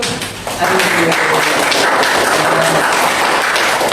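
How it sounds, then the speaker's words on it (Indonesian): A crowd claps steadily in a dense wash of applause that swells after a brief start and holds loud throughout. "Tepuk tangan dulu buat"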